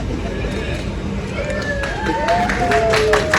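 Wedding guests at a winter wedding reception at Vista Sky Lounge in Long Island City clap and cheer, with a steady crowd hubbub that swells into denser applause and rising whoops over the last second or so.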